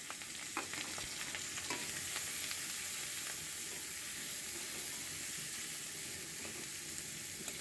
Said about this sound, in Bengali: এখন আমি পেঁয়াজ আর কাঁচামরিচ দিয়ে দিব, ভেজে নিব তাহলে।